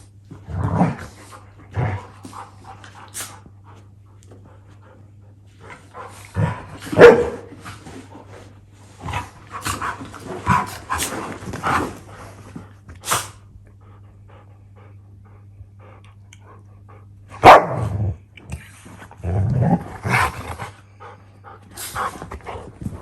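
Puppies bark in short, loud bursts with panting and occasional growls, separated by quieter gaps, close by and with no talking.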